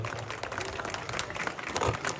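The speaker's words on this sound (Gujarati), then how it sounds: "ખૂબ તાળીઓના ગડગડાટથી આપણે" Steady crowd applause welcoming an honoured guest at a village religious gathering in Gujarat, dense and continuous throughout, fairly close with no clear talk.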